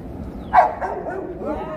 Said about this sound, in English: That's a big dog, damn.